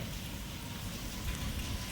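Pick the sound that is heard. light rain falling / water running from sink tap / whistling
light rain falling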